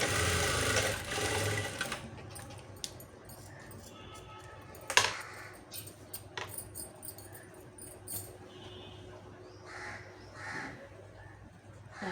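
A sewing machine runs in short bursts while stitching a blouse neck, with brief clicks and pauses between runs and a crow cawing faintly outside.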